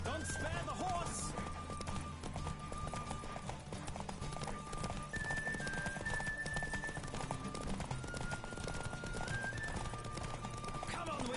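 Horse hooves pound in a rhythmic gallop during a horse race in The Witcher video game, with steady clip-clop under talking voices and occasional whinnies.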